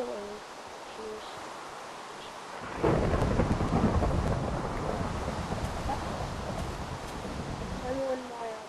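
Nighttime rain in the Minecraft video game starts abruptly after a quiet moment and settles into a steady, even hiss, with faint tonal sounds at the start and end.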